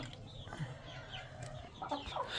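Hens and a rooster cluck softly in a coop holding eggs, with short scattered calls and squawks over a low, quiet background.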